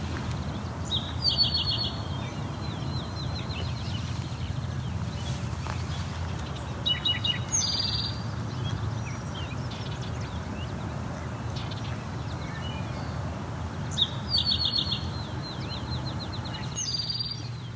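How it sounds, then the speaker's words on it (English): A great crested flycatcher calls repeatedly, short sharp high notes in separate bursts a few seconds apart, moderately distant over a low steady outdoor background hum. "That again's the call from the great crested flycatcher."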